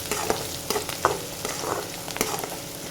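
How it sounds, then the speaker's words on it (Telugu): Onions with turmeric fry in a pan, a continuous close sizzle broken by several scraping stirs of a spatula at irregular intervals. "ఈ ఉల్లిపాయ కొంచెం కలర్ చేంజ్ అయ్యే వరకు ఇలా ఫ్రై చేసుకోండి"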